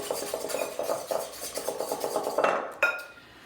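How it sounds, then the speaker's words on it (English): Whisk beating applesauce pie filling with nutmeg in a bowl, a rapid, rhythmic scraping and clinking against the bowl sides, close and steady, ending with a couple of sharper taps. "whisk it up."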